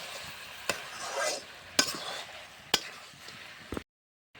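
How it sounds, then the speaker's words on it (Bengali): Duck Chettinad curry is stirred in a pan with a spoon, giving soft scraping swishes broken by three or four sharp clinks against the metal, close and fairly quiet, before the sound cuts to silence. "এবার এটা আবার ভালোভাবে নেড়ে দিচ্ছি।"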